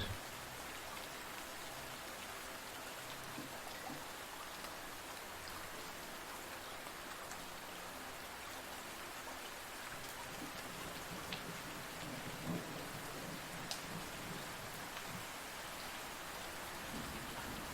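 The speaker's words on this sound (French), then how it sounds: "Concentrez-vous simplement sur le bruit de la pluie qui tombe" Steady, soft rainfall pattering on surfaces for nearly twenty seconds, with a low, distant rumble of thunder underneath and no voices.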